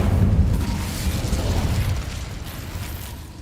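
Incendio fire spell cast in the Hogwarts Legacy video game, a loud whooshing, rumbling burst of flame that swells at the start and slowly fades over a few seconds, with no voices.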